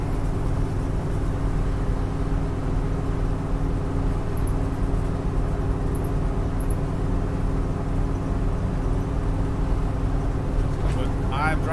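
A restored 1974 Jeep Cherokee S cruising at about 53 mph, with a steady, loud engine and road drone carrying a slight exhaust header leak from the passenger side, under a continuous broadband rumble.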